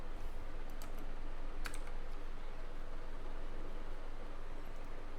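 Computer keyboard typing while text is entered in AutoCAD, a steady run of close, soft key clicks over a constant background hiss, with no talking.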